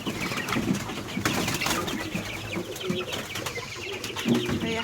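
Small young chickens peep and call in a busy cluster, soft repeated chirps overlapping at close range, with faint cooing from pigeons mixed in and no talk.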